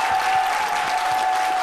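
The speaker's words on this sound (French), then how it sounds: "je vous demande d'applaudir" Short burst of studio audience applause on a French-language television talk show, dense and even clapping from a crowd, with a steady tonal hum running underneath.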